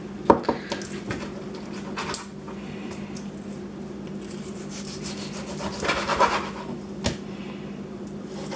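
A knife cuts through baby back ribs along the bone, giving soft scraping and rubbing strokes with a few sharp taps against the board, close and quiet over a low steady hum.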